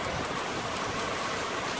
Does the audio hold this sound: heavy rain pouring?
yes